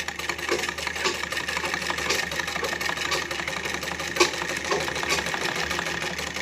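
A sewing machine runs steadily up close while stitching along a suit neckline beside piping, a continuous rapid mechanical chatter with a brief knock partway through.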